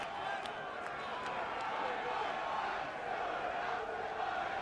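Motorcycle racing fans mass on the pit lane at the 2012 Australian MotoGP, a broad, continuous crowd roar with scattered cheers and a few sharp claps, steady and fairly distant, with faint voices mixed in.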